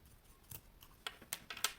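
Scissors snip excess thread from sewn fabric, a quick series of about five sharp, close cuts, the last few in rapid succession, with no talking.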